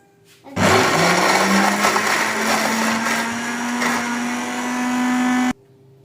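A blender grinds pomegranate seeds with spices and salt, starting abruptly, running loud and steady for about five seconds with a whining motor tone that rises slightly, then cutting off.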